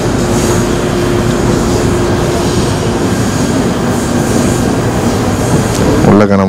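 A Malaysian commuter train running toward KL Sentral gives a loud, constant rumble of wheels on rails from inside the carriage, ending in a brief rising squeal.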